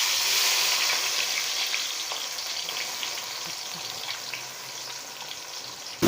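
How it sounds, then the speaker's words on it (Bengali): Three red chillies and four chopped medium onions frying in hot oil for beef bhuna: a dense, even sizzle close by that continues throughout and eases slightly, with a faint clatter at the very end. "আমি এগুলোকে একটু ব্রাউন করে ভেজে নেব"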